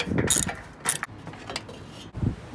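A ratchet with a small 10mm socket turns a bolt in a tight spot on a car's front end, giving a few quick, close metallic clicking bursts separated by short pauses.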